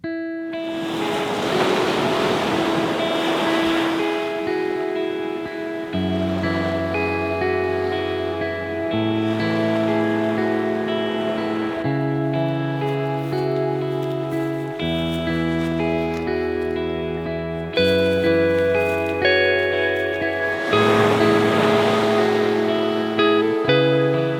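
Ocean surf washes onto the shore, swelling in long rushing surges near the start, middle and end, with a steady wash between them and a sustained tonal hum layered over the water.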